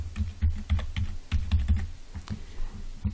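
Typing on a computer keyboard to name a document in Microsoft Word: a quick, uneven run of close, crisp key clicks filling the moment, with no voice.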